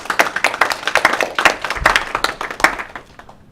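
A meeting audience claps for contestants in a short burst of distinct, fairly sparse hand claps, close and moderately loud, tapering off toward the end.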